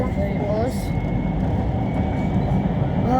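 Steady low rumble of a train rolling along the rails from Tbilisi, continuous and fairly loud, with a faint brief squeal early on.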